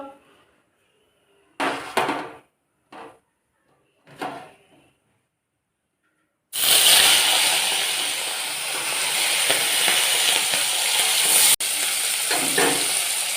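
Fish rubbed with salt and turmeric frying in hot oil, opening with a few short bursts before a loud, continuous close sizzle and hiss sets in and carries on to the end.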